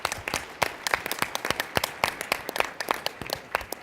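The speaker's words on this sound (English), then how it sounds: "That deserves a round of applause." Audience applause fills a talk on state energy-efficiency policy, a dense, steady patter of many hands clapping at close range with no voices over it.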